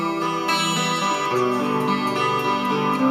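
Acoustic guitar playing the intro riff of a song, a steady flow of ringing, layered notes that fills the whole stretch at an even level, with no voices over it.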